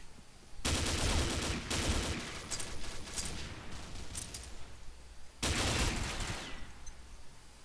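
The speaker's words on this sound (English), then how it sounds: "Someone's trying to shoot at me." Gunfire rattles through a session of the online shooter game Combat Arms, with dense automatic bursts that stop, resume and then cut out again, moderately loud and with no voice over it.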